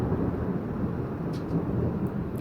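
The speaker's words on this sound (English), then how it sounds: "Can you hear the thunder?" Steady low rumble of thunder rolling through a nighttime rainstorm, continuous and fairly muffled, with faint rain hiss and a few brief higher crackles near the end.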